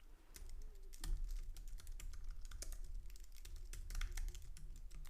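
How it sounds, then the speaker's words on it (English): Rapid, steady keystrokes on a computer keyboard while writing Swift code for an iOS app, clicking in an uneven rhythm close to the microphone with no voices. "let's go back and type some code"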